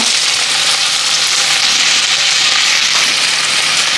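Chopped onions sizzle loudly and steadily in hot sesame oil with bay leaf, cardamom, cloves and star anise, a dense, even frying hiss with no voices, for a mutton kola urundai kuzhambu.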